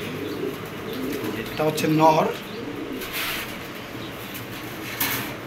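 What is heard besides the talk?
pair of Damascene pigeons cooing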